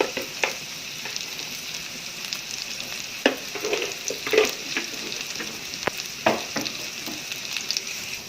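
Onions sizzle steadily in a frying pan, with scattered clicks and scrapes from stirring. The frying is quiet and close, and no one speaks.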